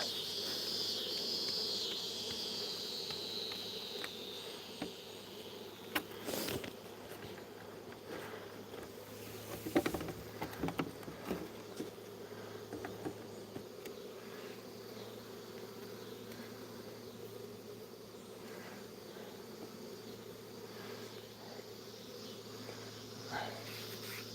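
Bees buzz steadily at close range as they are brushed off, a continuous insect drone with occasional brief knocks and rustles, no talk.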